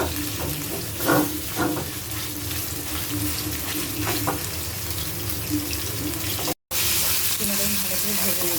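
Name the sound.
frying chicken mince with onion and green chili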